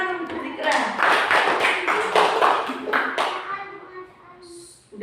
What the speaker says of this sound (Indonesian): Tepuk tangan untuk Zikra.